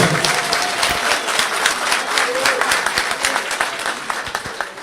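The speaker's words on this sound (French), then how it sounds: "Applaudissez très fort, s'il vous plaît." Loud, dense applause from a ceremony crowd at the inauguration of a new headquarters in Luanda, continuous and close throughout, with scattered sharp individual claps standing out.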